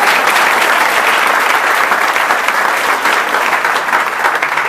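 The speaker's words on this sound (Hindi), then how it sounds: "इनके लिए भी ताली बजा दो।" A seated lecture audience claps for the guest, a dense, even roar of hands lasting several seconds at full strength with no voices over it.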